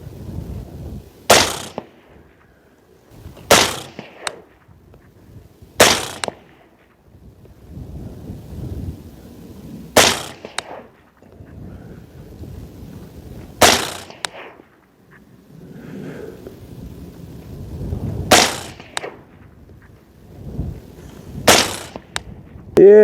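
Seven suppressed 5.56 rifle shots fired through an Otter Creek Labs OCM5 suppressor using 55 grain full metal jacket ammunition, sharp cracks spaced a few seconds apart over wind rumble and quiet movement outdoors.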